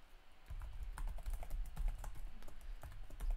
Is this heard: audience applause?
no